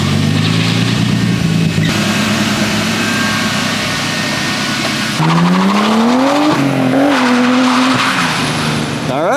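An S52-swapped BMW E30 fitted with individual throttle bodies revs loud and close, its engine note climbing and falling in long sweeping pulls with a harsh, raspy intake edge and no one talking over it.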